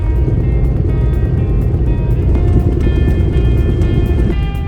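A pickup truck with an empty bed drives down a snowy, slippery farm road, its engine and tyre rumble a loud, steady low drone heard from inside the cab.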